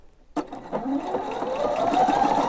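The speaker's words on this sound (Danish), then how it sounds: "Og når vi har indkodet det, vi vil sy, så starter vi maskinen." A Husqvarna Viking Opal sewing machine starts abruptly and runs steadily, its motor whirring and rising slightly in pitch with a fast mechanical needle patter, close and clear.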